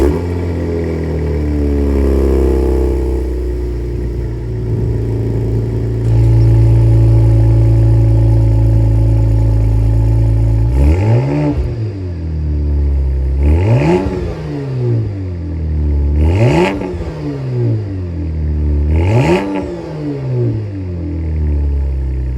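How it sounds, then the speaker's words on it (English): A 2023 Cadillac CT4-V Blackwing cold-starts with a loud flare and settles into a high, steady fast idle, then a run of four sharp revs rising and falling at even intervals, all up close with no talk. "let's hear a cold start and then we'll take it out for a spin."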